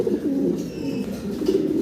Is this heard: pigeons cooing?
yes